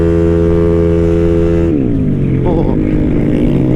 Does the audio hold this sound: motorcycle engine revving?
yes